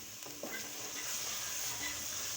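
Spinach being stirred with desi ghee in a pan for dhaba-style aloo palak, with fried potatoes in the mix. A steady close sizzle runs throughout, with a brief scrape of the spoon early on, and no talking.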